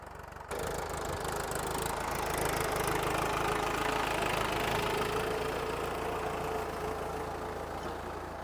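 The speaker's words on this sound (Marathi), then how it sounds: "ट्रॅक्टर कशा पद्धतीने चालवतोय ते परत आणि एकदा तुम्हाला दाखवतो." A tractor pulling a rotavator through a banana field being tilled for sugarcane planting: a steady, loud diesel engine drone with a rough knocking edge that runs without a break, with no talk.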